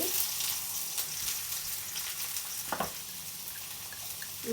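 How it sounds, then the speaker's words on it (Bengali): Cumin seeds crackle in hot oil for a tempering, a soft, steady sizzle heard close but fairly quiet, broken by a few sharper pops and brief clatters. "কয়েকটা জিরের ফোড়ন"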